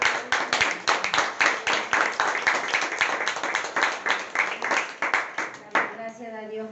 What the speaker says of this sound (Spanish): Le damos un fuerte aplauso.